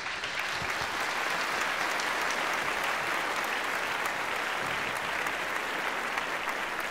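Dense, steady applause from an audience at an awards ceremony, sustained and even throughout with no break, filling the hall at a constant level.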